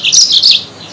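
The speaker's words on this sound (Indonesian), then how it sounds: "Dari burung Mozambik ini." Yellow-fronted canary, a Mozambique bird, singing a bright, loud burst of high chirping phrases close by, fading out after about half a second.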